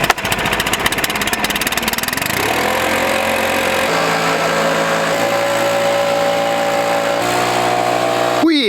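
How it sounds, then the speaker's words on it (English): A snow blower fires up in a yard, its engine catching after a couple of seconds and then running at a steady, loud, close drone with a few small shifts in pitch. "we're gonna fire the blower up and dust some of those guys off"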